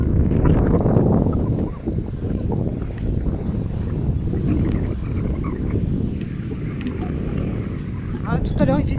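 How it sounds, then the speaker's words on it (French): Steady wind buffets the microphone outdoors in a town with old towers and narrow lanes, a continuous low roar lasting the whole stretch with a few brief knocks near the end. "désolé pour le vent ou quoi que ce soit"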